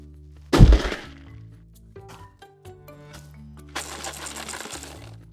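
A box dropped onto a hard surface lands with one loud, close thud and rattle, followed by scattered small knocks and a longer rattling shuffle as the contents settle.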